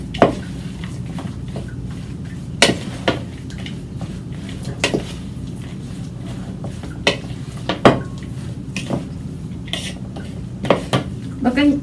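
Filipino spring roll filling is mixed in a bowl, with a steady low rustle broken by sharp, irregular clinks and knocks of a utensil against the bowl, fairly close.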